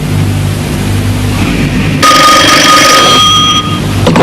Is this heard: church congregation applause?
no